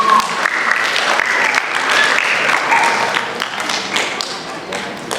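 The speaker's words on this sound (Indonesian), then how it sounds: "Kasih tepuk tangan yang meriah untuk orang tua murid semuanya." An audience at a primary school Quran memorization graduation ceremony applauds for the students' parents, a loud sustained clapping from many hands that fills the hall throughout.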